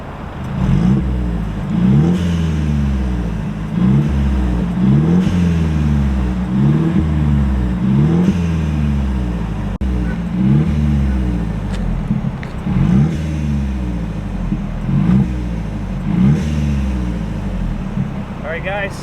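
A Mercedes E300 with a QTP exhaust cutout open idles up to about 2,000 RPM, giving a steady, close, low throaty drone with a regular pulsing rumble throughout, continuous and unbroken.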